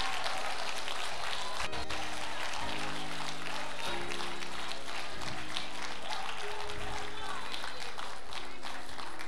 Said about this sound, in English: Come on, you could do better than that. Clap your hands.